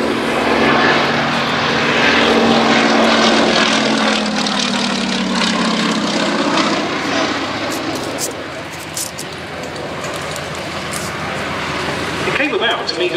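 Propeller aircraft flying close past in formation at an Old Warden air display: a loud, full engine drone that swells and slowly fades, with people talking nearby under the noise.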